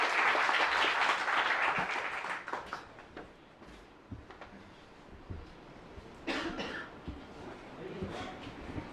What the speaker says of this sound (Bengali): সো ওনাকে জন্য জোরে একটা হাততালি।